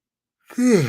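A man's drawn-out yawn, a single breathy, falling groan that starts abruptly after silence and sounds close and fairly loud.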